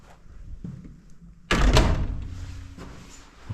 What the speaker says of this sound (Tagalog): Sarado lang natin pintuan.